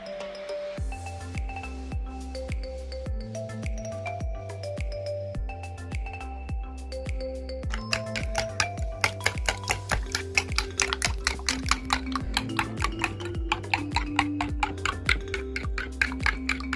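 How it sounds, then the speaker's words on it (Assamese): A knife chops a small green chili on a board in a home kitchen, with a steady run of sharp, close tapping strokes that speed into dense, quick cuts in the second half. "এতিয়া মই এটা সৰুকৈ জলকীয়া কাটি দিম।"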